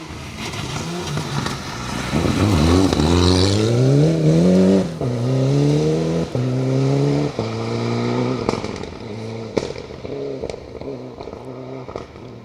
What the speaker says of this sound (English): Fast approach, hard on the brakes.